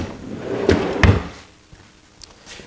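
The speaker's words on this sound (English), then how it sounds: "on both sides, it has these drawers for storage" Storage drawers on a large rolling workbench with a 4x8 top slide and thump shut in a home shop, two close knocks followed by quieter rattles, with no voices.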